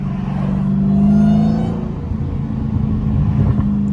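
A Dodge Hellcat drives with a steady low engine drone and a faint whine layered on top, heard close from inside the car. The rumble swells and then settles, with no one talking.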